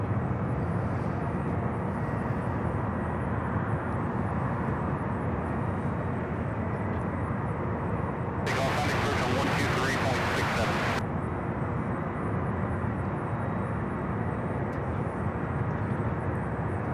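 A Boeing 747 jet departing for Honolulu rumbles as a steady, moderate jet roar, with a brief burst of hiss partway through and people talking now and then.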